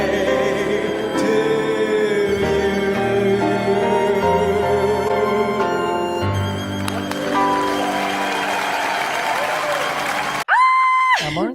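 A crowd claps at a birthday celebration for a church president, with loud applause running under a sung happy birthday and music, then breaking off near the end into a brief bright tone.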